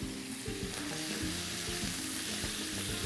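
Meat for shawarma pasta fries in a pan with a faint, steady, even crackling sizzle and no talking.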